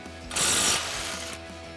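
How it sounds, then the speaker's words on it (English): An impact wrench with a 21mm socket runs off the outer tie rod end nut on a 2019-2023 Silverado 1500, a short, close, loud whirring rattle lasting under a second, then a lower mechanical hum. "So we'll grab our 21 millimeter socket on our impact and go ahead and run that nut off."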